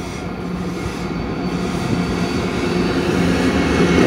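A Union Pacific freight train rolls through the Barstow rail yard in California, a loud, steady rumble of wheels and rail cars passing close by, with no talk.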